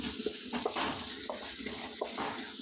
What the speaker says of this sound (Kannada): ಚೆನ್ನಾಗಿ ಎಣ್ಣೆಲಿ ಫ್ರೈ ಮಾಡಿ. ಈ ರೀತಿ ಚೆನ್ನಾಗಿ ಈರುಳ್ಳಿ ಕೆಂಪು ಊಟ ತನಕ ಫ್ರೈ ಮಾಡ್ಕೊಳ್ಳಿ.